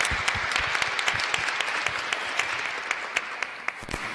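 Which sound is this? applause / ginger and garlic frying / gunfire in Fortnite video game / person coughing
applause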